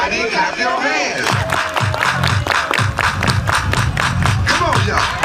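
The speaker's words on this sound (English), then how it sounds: "Everybody clap your hands." A crowd at a high school homecoming event claps in unison, sharp regular beats forming a steady rhythm after a brief shout and voices at the start, with cheering and chatter mixed in.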